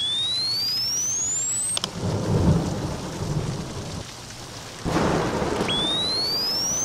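Thunderstorm with rain in a horror video game: a rolling thunder rumble and a second crack over steady rain, with rising synthetic sweep tones at the start and end.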